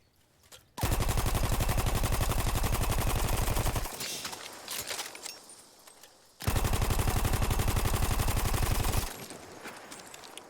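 A Parabellum machine gun in Battlefield 1 fires two long sustained bursts of rapid, evenly spaced shots, loud and close, separated by a brief pause with fading echoes.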